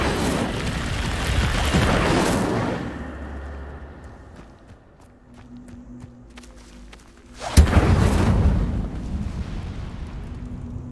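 The Incendio fire spell in Hogwarts Legacy erupts in a roaring, booming whoosh of flame, dies down to a quieter lull with a low hum, then a sharp impact sets off a second loud fiery rush.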